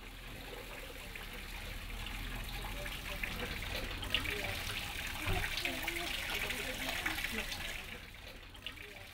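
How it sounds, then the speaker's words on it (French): Water from a tap pours and splashes over a small child's hands in a steady, close gush. It keeps an even, rushing texture for the whole stretch. "plus le son de l'eau qui tombe"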